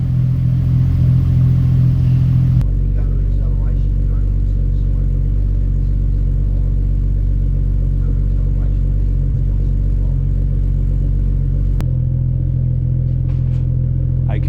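A Ford Barra turbo engine idles while it is still smoking after fifteen minutes of running, a loud, steady, deep rumble close by with a brief shift in tone partway through.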